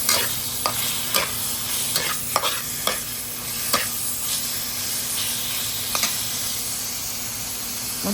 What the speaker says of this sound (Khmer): បន្ទាប់ពីបំពងខ្ទឹមខ្ញុំដាក់សាច់គោចូល